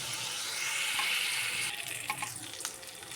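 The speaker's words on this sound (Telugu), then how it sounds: "కొంచెం పసుపు వేసుకొని ఫుల్ ఫ్లేమ్ మీద బొమ్మిడీలు ఫ్రై చేసేసుకోవాలి." Small bommidi fish frying over full flame in hot oil with turmeric, a steady dense sizzle that thins after a moment into scattered crackles and pops, close and fairly quiet, with no voices.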